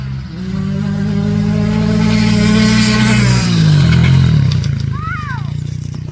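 A Honda CRF125F and a KTM 65 dirt bike rev loudly together at the start of a drag race, with a steady engine drone that rises in pitch, close and continuous.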